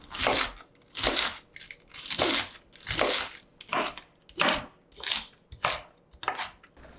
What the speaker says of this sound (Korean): 양배추 한두 장도 채 썰게요